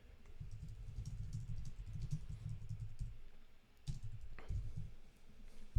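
Computer keyboard keys pressed while working in a voice-editing app, a run of soft clicky taps over low room hum with a couple of sharper isolated strikes near the end.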